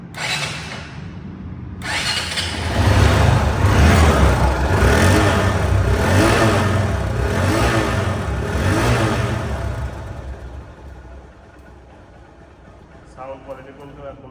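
A second-hand Hero Hunk motorcycle engine starts and runs with a loud, steady rumble and rhythmic revving, then settles to a quieter idle as a voice speaks briefly.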